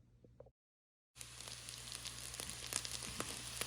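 Soaked, drained basmati rice roasting in a pan for mutton biryani gives a steady close sizzle with small crackles and stirring scrapes, starting abruptly after a brief quiet gap and continuing without talk.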